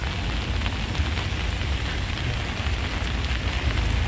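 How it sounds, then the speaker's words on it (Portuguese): Heavy rain pours steadily outdoors on a trip to an aquarium in Korea, a dense, loud, unbroken hiss with no voices over it. "mas está chovendo horrores."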